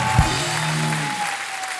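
Studio audience applause for guests on a Hindi TV talk show, a steady clapping wash lasting about two seconds, fairly loud and continuous after a brief thump near the start.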